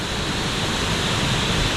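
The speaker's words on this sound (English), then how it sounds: "I'm on a little boardwalk going across, but it has a waterfall" A small river waterfall in Kuldīga, Latvia, heard from a boardwalk crossing it, pours in a steady, even hiss of rushing water that stays constant and close without pause.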